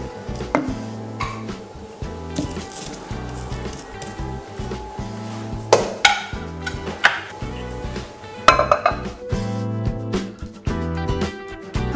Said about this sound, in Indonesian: Untuk bumbu bawang merah sama kencurnya mau aku halusin di sini.